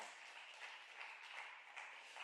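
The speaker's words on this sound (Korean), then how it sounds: "박수 한번 치, 박수" A church congregation claps together during a Sunday sermon, a steady, fairly faint, distant patter of applause sustained throughout with soft voices mixed in.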